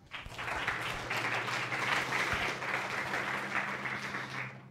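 An audience at a talk on GPLv3 applauds speaker Bradley Kuhn: a steady, dense wash of many hands clapping together, holding at an even level throughout without pause.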